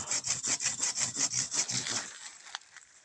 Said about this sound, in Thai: เลื่อยไม่ได้ใช้นานแล้ว ตั้งแต่ตกงานตอนนู้นไม่คมแล้วเลื่อยค่อยตาย